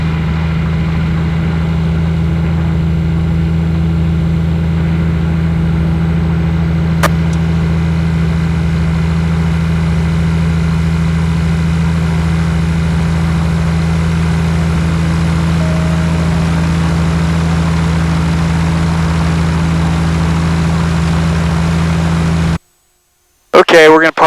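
A steady low drone of the twin piston engines of a Cessna 421C airplane idling continuously, even and loud, before cutting off abruptly near the end.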